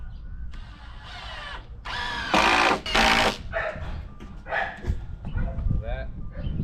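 A power drill drives screws into a pocket bully dog kennel during setup, with short whirring bursts starting and stopping up close, and someone talking between them.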